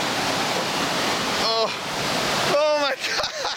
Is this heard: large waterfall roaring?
yes